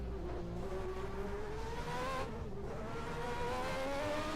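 Formula 1 race cars at the 1991 Canadian Grand Prix scream past on track, high engine notes rising and falling as they accelerate and shift, fairly faint at a distance.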